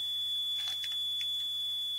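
Endpoint buzzer on a Karl Fischer LJ-761 titrator beeping in a short cluster of quick electronic chirps, near and moderately loud over a steady background hum, no talk.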